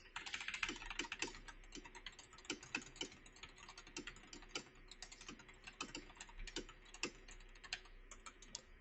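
Steady typing on a computer keyboard picked up by a budget Fifine AM6 USB microphone with noise cancellation on, rapid close clicks in an uneven rhythm, faint and thin, with no voices.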